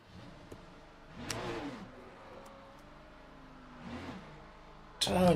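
A race car engine in the Le Mans Ultimate sim racing game, heard faintly and steadily with a few brief revving surges and a sudden louder burst at the end.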